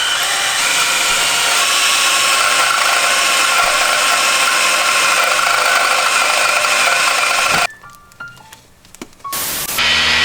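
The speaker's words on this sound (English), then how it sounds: "next step is drill the pins in the crank" A loud, continuous power-tool whine drills pins into the crankshaft of a BMW M4 engine, running unbroken for nearly eight seconds before stopping abruptly, followed by brief clanks and a short final burst.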